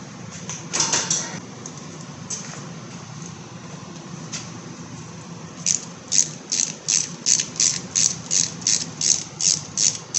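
Ratchet wrench with flex socket working on the differential of a 2002 Chevy S-10 ZR2 pickup, a few scattered clicks first, then a rapid regular run of about a dozen close ratcheting clicks.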